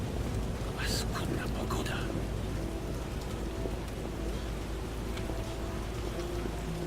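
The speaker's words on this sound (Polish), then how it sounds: "O, deszcz widzicie, wszyscy komentują deszcz." Rain falling in The Witcher video game, a dense steady patter with a low rumble of thunder beneath it and a few brief sharper bursts early on, while someone talks over the storm.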